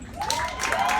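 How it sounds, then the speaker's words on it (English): Brief burst of audience clapping and light cheering from divorced crowd members answering a comedian, short and moderately loud, with a faint tonal hum underneath. "Clap if you're divorced. Who's divorced?"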